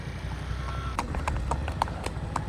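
Mare's hooves clip-clop on a hard surface at a steady walking pace, sharp distinct strikes over a low background rumble.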